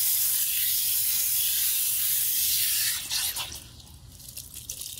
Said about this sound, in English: And then we'll rinse the conditioner out.